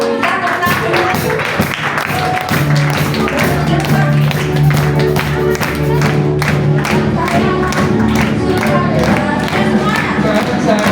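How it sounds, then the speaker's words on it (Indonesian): A church congregation claps together in steady, rhythmic taps, with a loud tone sustained underneath from roughly the third second and a bit of crowd noise throughout. "Kita tepuk tangan dulu."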